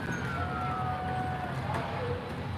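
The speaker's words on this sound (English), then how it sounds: "I can hear sirens." Distant sirens wail over a busy crowd at the Blackpool Illuminations switch-on, their faint gliding tones rising and falling beneath a steady wash of background noise.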